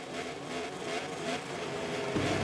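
MotoGP motorcycles on the Mugello starting grid in the MotoGP 24 video game, engines revving steadily and loudly at the race start, with the pitch and volume swelling near the end as the bikes pull away.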